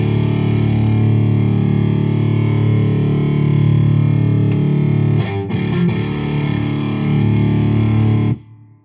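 An electric guitar played through a Dr. J Lancelot distortion pedal with its boost engaged rings out as a thick, sustained distorted chord, with a few picked notes near the end before it cuts off abruptly.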